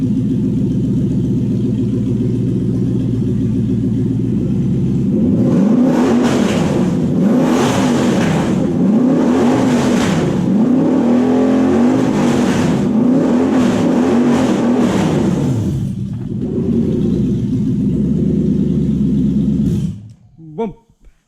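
Toyota 1UZ VVTi V8 fitted in a Mazda FC RX7 running loud and close, idling roughly then revving repeatedly in rising and falling sweeps for about ten seconds before settling back and shutting off.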